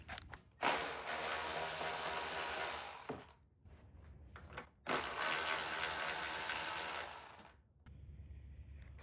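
Ratchet backing out two 10mm screws on the rear of a radiator fan on an Acura TLX, heard as two long runs of rapid, close clicking, each cut off abruptly and separated by a short pause.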